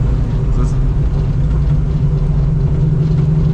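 A 1970 Ford Mustang Fastback restomod driving with its engine running, a loud steady low rumble filling the cabin throughout, with a voice speaking over it.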